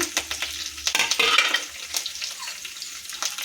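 Green chilli, onion and curry leaves frying in a pan, sharp crackling sizzle with spattering pops and stirring clatter, close and uneven in loudness.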